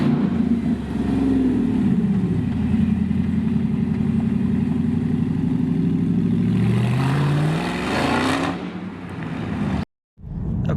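A loud engine on the road during the RNA Ohio Valley 700 rally holds a steady rumbling idle with rising and falling revs for about nine seconds, then cuts to a brief silence before a short burst returns.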